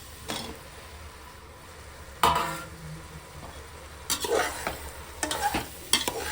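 Mushrooms sizzle in a pan for biryani while a spoon stirs and scrapes them in several short bursts over a steady close frying hiss, with no talk.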